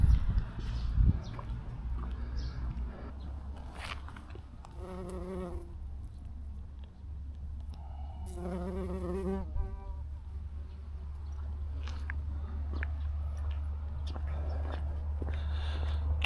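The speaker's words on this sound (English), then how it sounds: "Chinese bumblebee" Chinese bumblebee buzzing outdoors in Ordos, Mongolia, two short tonal buzzing passes rising over a steady low background hum, with faint other noises and no talk.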